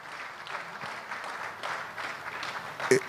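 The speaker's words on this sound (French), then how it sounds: "Je demande pour lui un vif applaudissement." An audience at a national preschool conference opening ceremony in Haiti applauds warmly, a continuous soft patter of many hands clapping, somewhat distant, ending with a brief louder knock.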